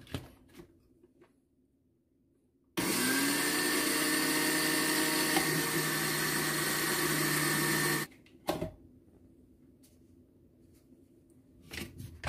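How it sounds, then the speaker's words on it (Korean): A loud, steady blender whir grinding dried perilla seeds for several seconds after a quiet start, then cutting off abruptly, followed by a few faint clunks. "이렇게 믹서기로 잘 들깨를 갈았습니다"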